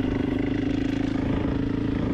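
A 450 motorcycle engine running at light throttle while descending sand dunes at Merzouga: a steady, even mid-pitched engine drone with a faint clattering edge, continuous and fairly close, no talk.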